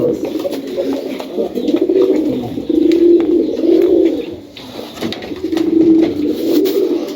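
Highflyer pigeons in a loft give a steady, close, rolling coo that swells and fades in waves, with faint clicks and rustles behind it and no speech.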